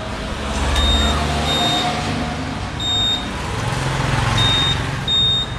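A used Honda ADV 150 scooter's alarm sounds in repeated pairs of high, clear beeps, loud and close, over a steady engine-like rumble.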